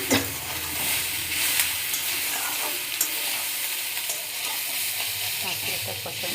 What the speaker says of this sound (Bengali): এবার মশলাটা একটু ভালো করে কষিয়ে নেব।